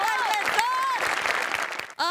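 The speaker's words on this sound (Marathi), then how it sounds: "जोरदार टाळ्या" Loud, steady audience applause for Sachin Goswami at a Marathi stage comedy show, a dense wash of clapping lasting about two seconds with voices calling out over it.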